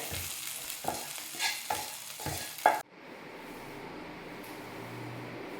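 A spoon stirs through thick payasam in a pot with a few scraping strokes and a soft bubbling sizzle, then the stove is switched off and only a low hum remains.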